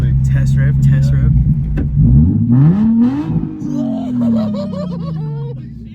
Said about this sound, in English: I'm gonna rev it for Alex real quick